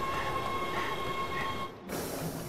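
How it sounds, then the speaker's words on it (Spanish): Train passing in Resident Evil 6, a loud continuous rumble with a steady tonal hum that drops off sharply near the end before the noise returns. "Cuidado, un tren"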